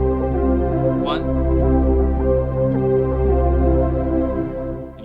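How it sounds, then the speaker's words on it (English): Juno synthesizer part fading in over a sustained polysynth pad in a worship keyboard arrangement, steady chordal tones building gently, with a brief spoken count at the start. "And then you bring in your Juno,"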